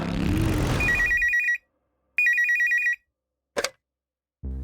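An old-style telephone bell rings in two trilling bursts after an engine noise fades out, loud and close, followed by brief clicks and rustles.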